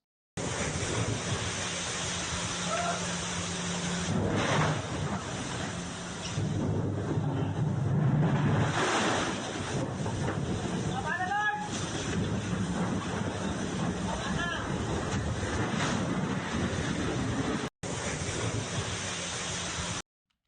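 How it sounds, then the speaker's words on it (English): Powerful water cannon blasting the inside of a boat, a continuous loud roaring rush of spray and wind noise with some faint voices underneath, sustained for the whole stretch. "the inside of this boat's getting sprayed, and look at how powerful that water cannon is"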